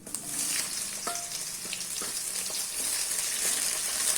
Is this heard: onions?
yes